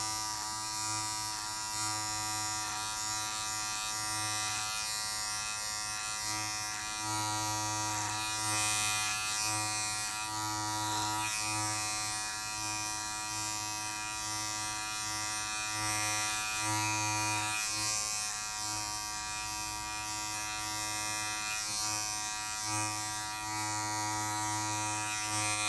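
Electric beard clippers fitted with a longer number 5 guard buzz steadily and close up for the whole stretch, a constant motorized hum with slight wavering as they move through the beard, with no talking over it.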